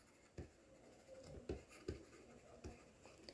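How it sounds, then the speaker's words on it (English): Notes handwritten with a pen on paper, several quick scratchy strokes and taps in uneven bursts, close and quiet against a hushed room. "Let's write it down."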